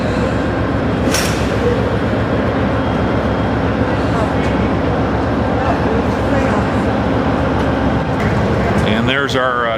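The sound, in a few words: train passing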